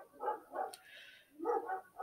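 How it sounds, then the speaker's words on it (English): A neighbor's dogs barking outdoors, several rhythmic barks in two short bursts, moderately distant and fairly faint. "Those are my neighbor's dogs."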